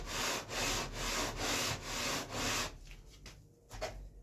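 Steady back-and-forth rasping of a sanding block on wood, about five rhythmic strokes, close up, then stopping with a few light scrapes.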